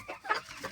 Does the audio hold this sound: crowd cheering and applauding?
no